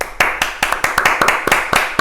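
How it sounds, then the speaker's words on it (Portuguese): A small group claps close by, the sharp hand strikes irregular and uneven over two seconds, sounding like a few people in a small room for a podcast interview. "Vou propor iniciar esse vídeo aqui com uma salva de palmas."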